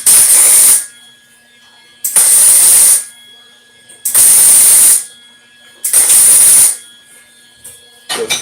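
Four loud, short bursts of hissing, crackling tack welding on a metal welding jig, evenly spaced about two seconds apart, with quiet pauses between.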